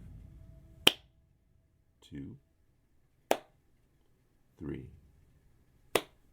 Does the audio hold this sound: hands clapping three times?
yes